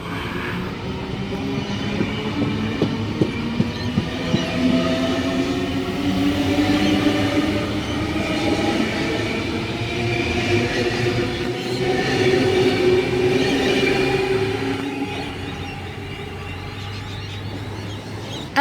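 A Sydney train pulls away from a station platform, its loud rumble and rising motor whine building over several seconds with faint wheel clicks early on, then easing off toward the end; no talking.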